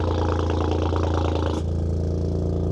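Toyota GR Corolla exhaust at cold start with the valve open, a loud, close, rough idle with a tractor-like chugging throb that drops slightly in intensity partway through.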